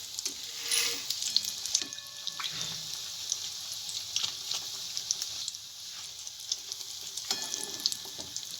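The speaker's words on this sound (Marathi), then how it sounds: "एकदम मीडियम गॅसवर होऊ द्यायचा आहे ब्रेड पकोडा, म्हणजे आतून पण होऊन येतो, शिजून येतो." Bread pakoda fries in oil over a medium gas flame, a soft continuous sizzle with a few faint clinks and stirring sounds, close but fairly quiet, with no talking.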